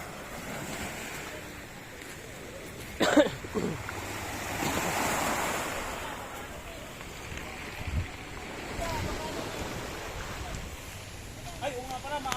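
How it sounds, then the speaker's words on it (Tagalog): Large ocean waves surge and wash around a boat with wind buffeting the microphone, a few sharp splashes breaking through, with occasional voices in the background. "mataas yung alon guys"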